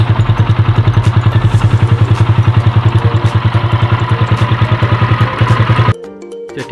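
A motorcycle engine with a newly fitted intake manifold rubber and PE28 carburetor idles close by in a smooth, even, rapid thumping rhythm before stopping suddenly.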